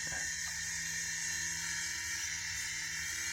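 Cheap Kmart toy indoor RC helicopter hovering nearby, a steady high-pitched electric motor whine with a buzzing rotor drone, constant and fairly loud throughout without talk.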